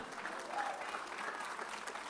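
Loud, continuous applause from a church conference congregation in Peru, a dense crowd clapping throughout, with faint voices mixed into the roar.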